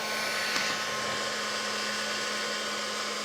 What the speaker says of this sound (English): I'm just going to give it a quick heat set.